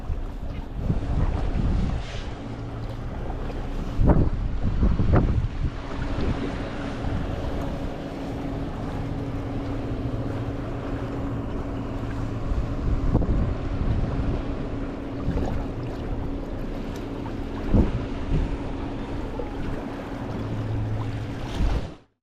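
Steady wind gusting across a seaside pier during float fishing for mullet, a continuous rough rush with loud buffeting bumps on the microphone and a low hum underneath.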